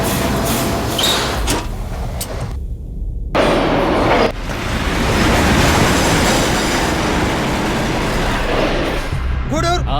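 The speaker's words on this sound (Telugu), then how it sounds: "చైన్ లాగాను పైన ట్రైన్ ఆగట్లేదు" An express train running out of control, not stopping despite the emergency chain being pulled, rumbles steadily along the rails with loud clattering wheels and a brief sharp squeal near the end; faint voices are heard beneath.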